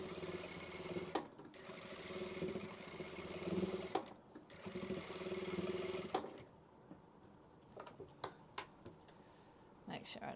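A sewing machine stitches a fabric strip curtain in steady runs of whirring, stopping and restarting several times, ending with short separate bursts; nearby and moderately loud, with talk in between.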